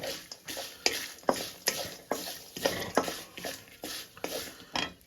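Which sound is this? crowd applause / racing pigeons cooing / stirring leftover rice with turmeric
stirring leftover rice with turmeric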